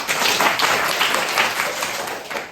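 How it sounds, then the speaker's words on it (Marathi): A classroom of children claps together for a classmate during an English lesson, a dense, steady burst of applause lasting a couple of seconds at close range. "ह्यांच्यासाठी पण टाळ्या"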